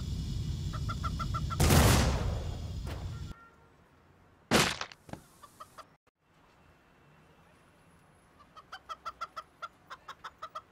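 Clucking chickens from the game Turbo Dismount, short repeated clucks in bursts between loud crash and impact noises, growing into a rapid run of clucks near the end.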